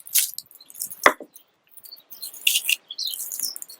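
A knife chops red Tropea onions for a fava bean puree topping, giving a few sharp, separate cuts spaced unevenly over a few seconds, close and fairly crisp.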